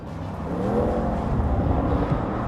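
A 2020 Audi RS6 on the road, heard as a steady, moderately loud engine drone with a gentle rise in revs and a low rumble throughout.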